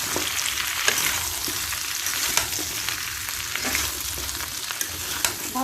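A mango pickle mixture sizzles and crackles in a hot pan as it is stir-fried, with a steady frying hiss punctuated by repeated scraping taps of a spatula up close.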